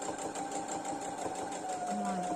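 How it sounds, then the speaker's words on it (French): A sewing machine stitches a fabric mask pouch in a quick, steady, rhythmic run, with someone speaking French over it. "Et on va venir coudre"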